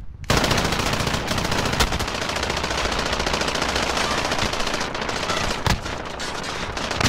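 Continuous heavy video game gunfire fills the whole stretch, dense overlapping automatic bursts with a few louder sharp cracks, close and loud.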